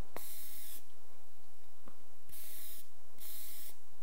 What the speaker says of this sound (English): spray them with a little cooking spray.